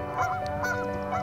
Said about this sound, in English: I think those are geese.